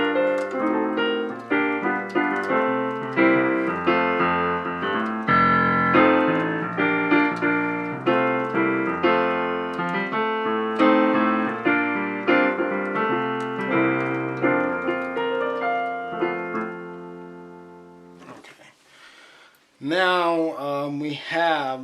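A highlife jazz lick played on a pitched instrument, a quick run of melodic notes over steady chords for about eighteen seconds, then a short pause before a voice speaks near the end.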